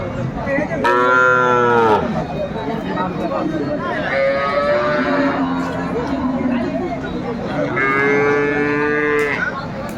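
A cow and calf at Aftabganj cattle market in Dinajpur give three loud, drawn-out moos, close by, over a background of crowd chatter and market hubbub.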